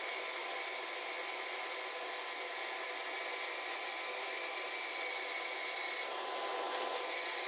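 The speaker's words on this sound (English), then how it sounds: "for a single cut it can be done by a bandsaw." Bandsaw with a wide blade cutting through thick glued wooden planks, a continuous steady rasping whir held close and level for the whole stretch, with a slight change in tone near the end.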